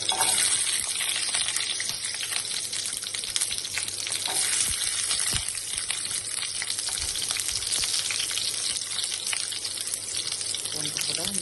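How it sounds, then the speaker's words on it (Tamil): Garlic fries in hot oil in a kadai while garlic chutney is being made, giving a steady, close crackling sizzle that holds fairly even throughout. "பூண்டு நல்லா வதக்கணும்."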